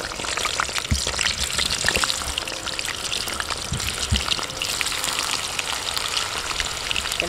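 Banana and taro pieces frying in hot oil, a continuous close sizzle and crackle with small pops throughout, no voices.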